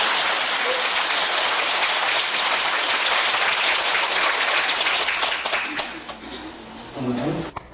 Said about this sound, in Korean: 감사의 박수 힘차게 하고 시작합시다.